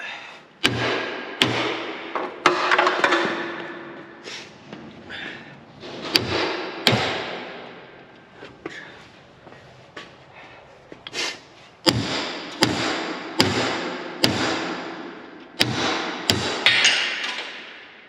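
A hammer strikes metal on farm equipment to knock out the nut holding the set screw for a carbide tip, giving sharp, loud, irregular blows with ringing tails. Some blows come in quick pairs and others stand alone.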